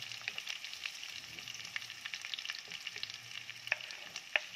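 Onion and ginger fry in a pan, a steady soft sizzle with faint crackles and a few sharper pops near the end, close and alone.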